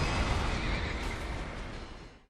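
The horse pulling the Executioner's Chariot boss in Dark Souls 2 lets out a loud, close whinny that fills the short moment and fades near the end.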